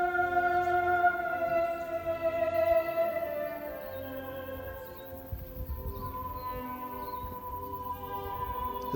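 A steady boat motor drone with harmonic tones hums nearby on Lake Rotoiti, fairly constant throughout, with low rumble beneath and no talking.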